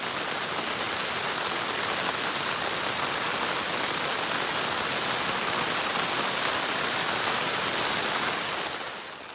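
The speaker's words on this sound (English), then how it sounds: "it's raining quite hard right now" Heavy rain pounds a Z-Packs Duplex tent at a beach campsite, a dense, steady hiss of drops that holds evenly and close for the whole stretch before easing slightly at the very end.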